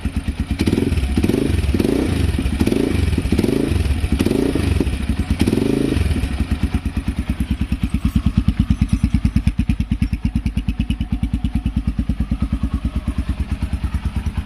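Forte CBA 250 motorcycle with a tuned exhaust, heard close: the engine is revved in several rhythmic bursts, then settles into a deep, loud, pulsing idle with a bassy thump.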